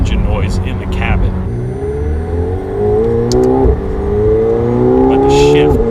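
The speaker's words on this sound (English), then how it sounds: "It's called an intake sound generator, and McLaren turns the volume up so you hear more engine noise in the cabin." Cabin engine sound of a 2018 McLaren 720S, boosted by an intake sound generator, builds in a loud rising pull with a gear change partway, accompanied by people talking inside the car.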